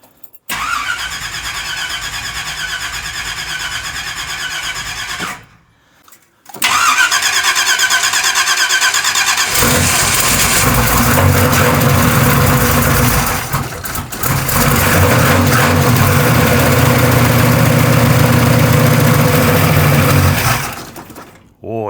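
Car engine on an unfinished family project car cranking, catching and idling roughly, with a brief cut-out, then revving louder before dying, a loud close engine with voices talking over it.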